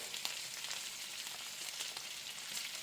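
Bacon frying in butter in a pan, a continuous close crackling sizzle with fine spitting pops, steady and alone.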